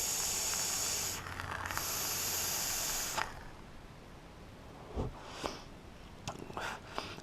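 Air drawn through a Wotofo Conqueror RTA atomiser with its airflow fully open gives a steady close hiss, broken by a few short breathy bursts and pauses.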